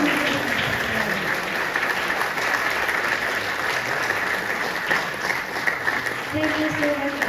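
A standing audience applauds a woman at a storytelling event, with dense, even clapping that holds steady throughout and a brief voice rising near the end.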